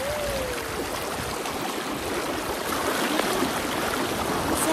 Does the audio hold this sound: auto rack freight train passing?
no